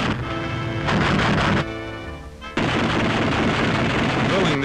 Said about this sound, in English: testing the guns,